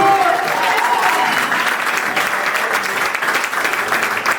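Loud, close applause from a concert audience at a home concert of African music, steady, dense clapping sustained for several seconds with faint crowd murmur beneath.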